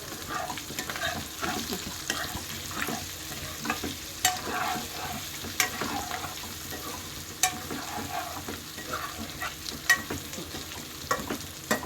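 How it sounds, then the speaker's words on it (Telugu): Bitter gourd fries in oil while it is stirred, giving a continuous close sizzle broken by repeated sharp scraping clicks from the stirring utensil. "కొంచెం ఇట్లా కొంచెం అట్లా కలబెట్టుకోండి"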